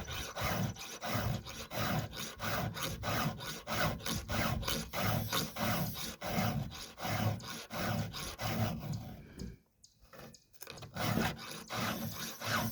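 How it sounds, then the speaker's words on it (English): A Husqvarna 394xp chainsaw chain is sharpened with a hand file in quick repeated rasping strokes, steady and close, pausing briefly before the filing resumes. "Just know that I'll be here filing the rest of this until it's sharp."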